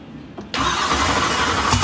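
A car engine in a repair shop catches and roars to life after a quiet moment, then holds a loud, steady rev as the gas is worked, close by.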